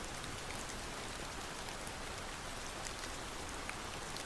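Rain falls on a city street at night, a soft, steady patter and hiss that stays even throughout with no voices.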